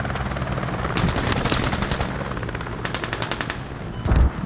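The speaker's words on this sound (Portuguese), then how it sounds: "O helicóptero deixou eles aqui." Video game battle with automatic gunfire bursts and a helicopter rotor hum running steadily underneath, the shooting coming in rapid clusters, close and loud, with a heavy low thump near the end.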